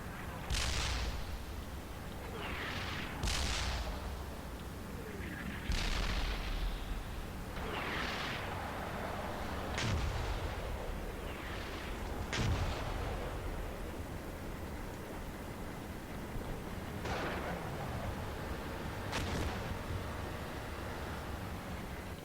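Artillery barrage in the Steel Beasts Pro tank simulation game: a series of heavy booming impacts spaced a few seconds apart over a constant low rumbling engine drone, fairly loud and without voices.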